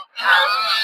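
King duck (raja hansh) ducklings at a poultry market give a loud, near, nasal honking call that starts after a brief pause and holds steadily to the end.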